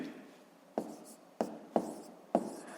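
Pen strokes on paper during a fifth-grade math exercise: four sharp scratchy taps spaced about half a second apart, close and fairly quiet over a faint room hiss.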